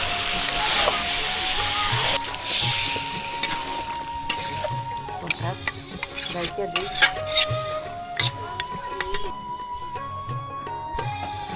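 Spice paste stirred and fried in a pan in a village kitchen, with a steady scrape and clatter of a metal spoon against the pot over a soft sizzle and hiss, close and continuous, with a brief faint voice.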